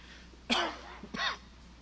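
Two harsh coughs from a man recovering from a viral illness, a sharp burst followed after a short pause by a second, close and isolated in a quiet room.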